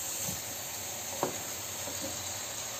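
Bottle gourd pieces sizzling in a hot pot, a steady close hiss of frying with one brief sharper crackle partway through, fairly quiet and with no one talking.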